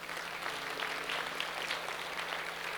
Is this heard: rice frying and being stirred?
no